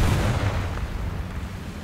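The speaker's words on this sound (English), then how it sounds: "I'm not too worried about an artillery strike." Artillery strike explosions in a tank video game: a deep, rumbling boom that fills the short span and slowly fades, loud and close.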